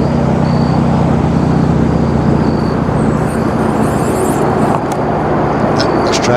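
Loud, steady road traffic roars continuously during early-season hunting, with a constant rumble of passing vehicles close by and faint speech-like sound underneath.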